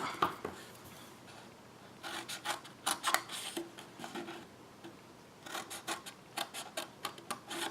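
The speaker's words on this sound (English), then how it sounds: "so now we're going to cut up on both of these" Scissors snip through paper for a K Cup gift box, making quick clustered bursts of crisp cutting and rasping close up, with short pauses between runs.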